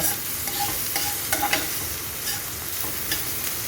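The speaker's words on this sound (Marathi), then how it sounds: "कांदा पण थोडासा ट्रान्सपरंट झाला की त्यात आपण लसूण घालायचं." Onion and garlic sautéing in a pan while being stirred, a steady close sizzle broken by quick scraping strokes of the spatula, loud and continuous with no talking.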